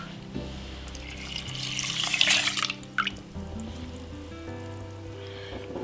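Coconut milk pouring into a rice cooker pot of rice and water for nasi lemak, a close, gurgling liquid stream that swells and then trails off into faint drips and a low hum.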